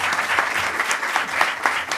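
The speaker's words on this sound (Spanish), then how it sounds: "le pido un aplauso para él" An audience at a wildfire forum claps, uneven individual claps standing out within the steady applause, close and fairly loud.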